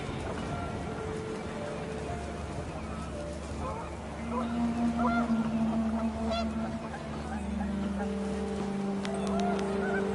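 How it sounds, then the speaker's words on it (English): Panicked geese honk in What Remains of Edith Finch, a cluster of calls rising out of steady wind and low rumble midway through, with a voice talking over parts of it. "The wind picked up, and panicked geese appeared and quickly went."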